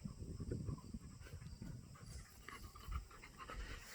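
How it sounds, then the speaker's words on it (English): A dog pants steadily nearby, quick rhythmic breaths repeating throughout at moderate volume with no talk over it. "My dog over there."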